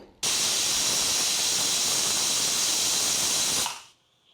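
A loud, steady hiss of steam bursts out from a pressure cooker whistle while cooking dal, holding for several seconds before cutting off abruptly.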